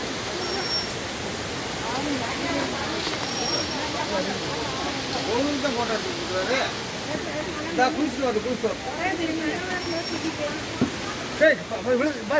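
Water thunders down Suruli Falls in heavy flow, a constant close roar with someone talking over it and other voices murmuring in the background.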